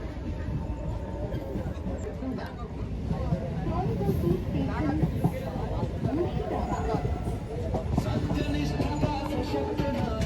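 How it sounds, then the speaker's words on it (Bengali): Train pulling into a railway station near Murshidabad in West Bengal, a steady rumbling roll with a continuous low mechanical drone and clanking, heard amid station ambience and people talking. "তো এখন ট্রেন আসছে"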